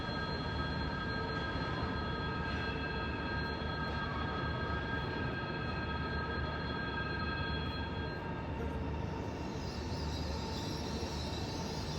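Steady low rumble inside a Chinese high-speed train from Shenyang to Beijing, with a constant hum and faint high whine throughout, no voices.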